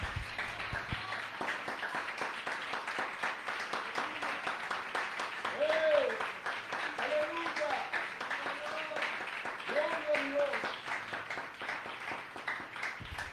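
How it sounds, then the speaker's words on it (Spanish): A church congregation applauds during a morning service, a steady wash of clapping running throughout, with a voice speaking and singing-like tones over it. "denle un aplauso al Señor en esta mañana antes de tomar asiento"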